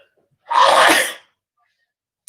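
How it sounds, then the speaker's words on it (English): A single loud, close human sneeze bursts out after a short silence and lasts under a second, followed by quiet. "you can't sneeze around nobody no more"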